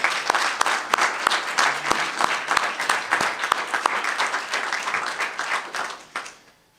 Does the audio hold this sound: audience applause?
yes